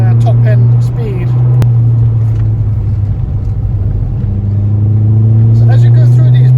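A Ford Fiesta ST180 drives through bends with a steady low engine drone and road rumble from inside the cabin, while someone talks over it throughout.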